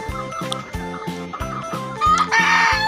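Domestic free-range chickens cluck steadily and close by in a series of rhythmic calls, with a rooster-like crow rising loudly near the end.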